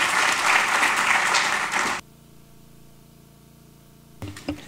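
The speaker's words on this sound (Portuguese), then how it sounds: "pedia uma salva de palmas para todos" Audience applause closes a podcast debate panel, a broad burst of clapping for about two seconds that stops sharply, followed by a quiet room tone and a few scattered claps and knocks near the end.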